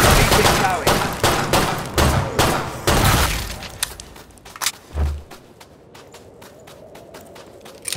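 Video game gunfire rattles in rapid, loud bursts of shots, some with sharp glassy cracks, then thins out to scattered single shots and quieter background noise.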